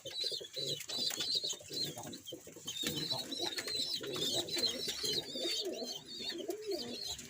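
Pigeons coo softly in low, rolling bursts, with small birds chirping high above and faint rustling nearby; quiet and close.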